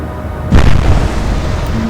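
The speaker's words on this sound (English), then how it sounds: "Oh, it's just 1 turret firing now." A single heavy boom as a warship's turret gun fires in a naval battle game, loud and close, with a long rumbling tail that fills the rest of the moment.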